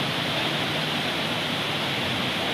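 Water gushes powerfully at Wawa Dam on the river in Montalban, Rizal, as a dense, steady roar of rushing water that stays loud and unbroken throughout, with no voices.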